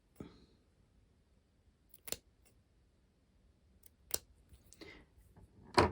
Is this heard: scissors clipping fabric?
yes